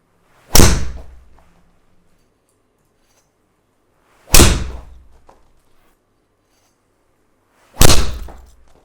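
Three loud, sharp impacts of a golf ball struck by a KRANK driver, recorded with the mic very close to the clubhead, spaced several seconds apart with brief decaying ring and quiet between hits.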